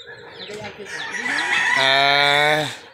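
Free-ranging farm chickens cluck close by, then a rooster lets out one long, loud crow that swells and fades at the end.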